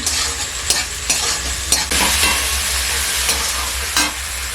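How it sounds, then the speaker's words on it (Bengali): Chopped green chillies and garlic stir-frying in a pan make a loud, close hiss with several sharp scraping strokes of a spatula against the metal. "ভালো করে ভেজে নেব।"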